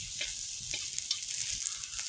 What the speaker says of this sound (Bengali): রসুনটা লাল লাল হয়ে ভাজবো।